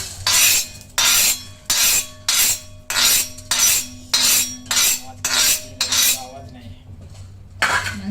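Whole spices such as black pepper and cloves are dry-roasted and stirred on a tawa for Malvani mutton: about ten loud, evenly spaced scraping strokes close by, then a short pause and one more stroke.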